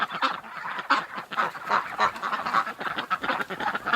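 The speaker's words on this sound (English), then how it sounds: "Oh, our little hurt duck. Look at her." A flock of ducks and geese call nonstop in a dense, overlapping chorus of honks and quacks, loud and close in a winter yard.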